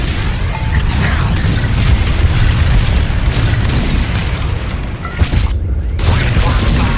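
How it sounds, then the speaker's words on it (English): Heavy booming bomb explosions from the Star Wars: Squadrons space combat game, a loud continuous barrage of blasts and crashes that fills the whole stretch, with a brief dip before the rumbling resumes. "On my mark, it's bombs away."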